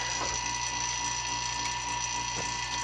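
A vacuum pump switched on in a home lab setup for filling a balloon with argon gives a steady mechanical whir and rattle, close and continuous throughout.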